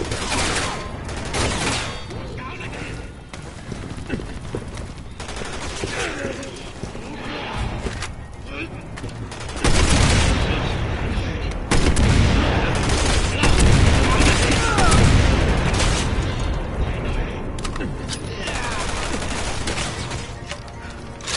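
Gunfire crackles in a shooter video game, scattered bursts and rapid shots mixed with horse hooves, whinnies and battle noise, loud and cluttered throughout, with voices talking over the action.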